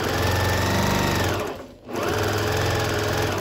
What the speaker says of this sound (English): I'm gonna go ahead and get close to that edge as I stitch it back.